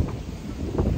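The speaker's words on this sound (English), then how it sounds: "It's windy, windy" Wind buffets the microphone in a steady low rumble with gusty swells outdoors on Maui, no voices present.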